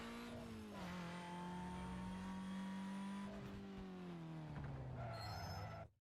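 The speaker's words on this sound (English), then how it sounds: "I'll give it a little bit of the old nitrous." A car in the racing video game Need for Speed Most Wanted revs hard on nitrous boost, a loud sustained engine whine that rises then dips slightly before a final surge, cutting off abruptly at the end.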